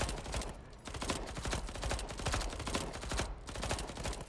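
Rapid bursts of gunfire from the video game Deathloop, a dense volley of shots packed closely together throughout, loud and continuous with no pauses.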